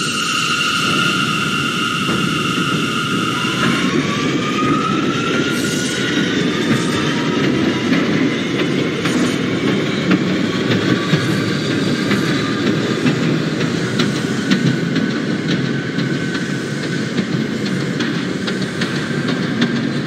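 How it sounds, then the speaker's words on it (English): An R179 subway car on a Manhattan-bound J train in the OpenBVE simulator hums and accelerates, its rising motor whine layered over continuous rumbling and clickety-clack of wheels on rail, loud and close with no voices. "This is a Manhattan-bound J train."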